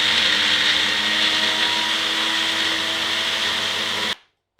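A NutriBullet blender grinds dry biscuits for an angel cake, a steady loud whirring drone that holds for about four seconds and then cuts off abruptly into near silence.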